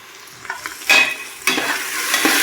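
Onions frying with fresh curry leaves for beef biriyani are stirred in a pan, giving a steady close sizzle broken by a few louder scraping strokes of the spoon, with no talking.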